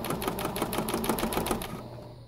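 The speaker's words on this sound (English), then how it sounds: "And then just sew all the way to the end." A sewing machine runs steadily while stitching the strap of a tote bag, its needle tapping in a fast, even rhythm up close before the motor stops near the end.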